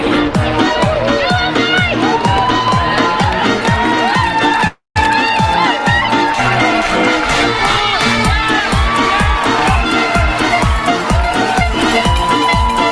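Roadside crowds cheer runners at the London Marathon in Canary Wharf, a dense continuous roar of shouts and whoops with steady rhythmic footfalls running through it and a brief cutout partway through.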